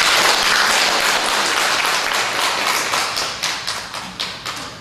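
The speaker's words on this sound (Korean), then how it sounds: "박수 한번 칠까요?" Inside a Sunday church service, the congregation applauds loudly in a dense burst that gradually thins into a few scattered, distinct claps as it dies away.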